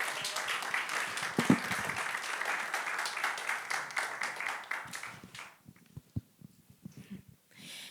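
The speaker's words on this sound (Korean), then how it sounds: "우리 김아빈 자매님 나오실 때 큰 박수로 환영해 주시기 바랍니다." A church congregation at a youth worship service claps in warm applause to welcome a speaker; the applause is dense at first, then thins into scattered claps and fades after about five seconds.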